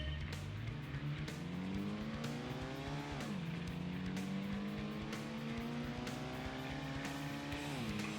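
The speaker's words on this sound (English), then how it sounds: "we're using a Mitsubishi FTO, which is a slightly less powerful than the GTO, but still moves pretty quick" A Mitsubishi FTO racing in the 1997 PlayStation game Gran Turismo gives a steady, loud engine drone whose pitch climbs and drops sharply as it shifts through gears, running the whole time with no talk.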